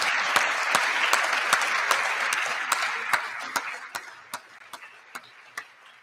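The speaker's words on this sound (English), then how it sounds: "So give all the volunteers a round of applause" At an intercollegiate ethics bowl national championship, an audience applauds volunteers in a dense wash of clapping that thins out over several seconds, leaving a few sharp, separate claps.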